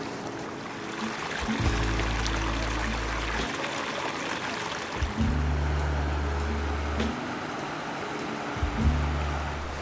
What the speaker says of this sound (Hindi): पहाड़ों के एक साइड से एक छोटा सा चश्मा आ रहा है और दूसरी तरफ जो है वो दरियाए पुंछ गुजर के जा रहा है